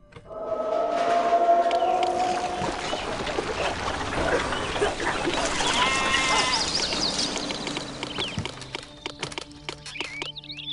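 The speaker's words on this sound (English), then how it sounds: "Lots of sheep being sacrificed." Several sheep bleat in overlapping calls amid a busy, noisy soundscape from the city-building game Master of Olympus: Poseidon, with scattered clicks and thuds toward the end.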